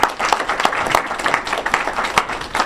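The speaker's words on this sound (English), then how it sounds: "I also ask you to give a round of applause to American University for making this" An audience applauds steadily after a talk on Kenya and the ICC, a dense patter of many hands clapping close by, with no speech over it.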